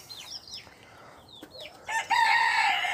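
Backyard hens and a big rooster, a few clucks and short squawks near and fairly soft at first, then a louder drawn-out crow rising toward the end, with no talking.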